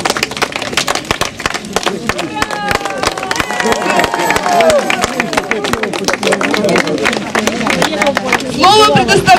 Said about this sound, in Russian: И, конечно же, наши аплодисменты.